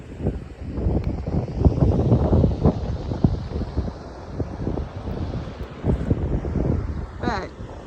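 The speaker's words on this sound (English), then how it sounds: "It's very windy." Strong wind buffets the microphone at a pullover overlooking Spearfish Canyon in South Dakota, a steady broadband roar with gusty surges throughout, while people talk over it.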